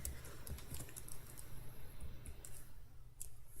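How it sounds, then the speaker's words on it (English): Rapid clicking of a computer keyboard being typed on, a fairly close, irregular patter of keystrokes over a low steady background hum. "I'm typing wrong."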